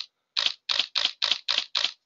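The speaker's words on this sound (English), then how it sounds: "you can press the shutter button on the camera as well, which I'll do now" A camera shutter firing a rapid volley of tethered shots, one lone click followed by six crisp, evenly spaced snaps at roughly quarter-second intervals, close and clear with silence between them and no talk.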